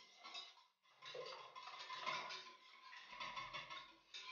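A whisk clatters rapidly against the sides of a pot while whisking yogurt smooth, a quick scraping, tapping rhythm, close by with a brief pause.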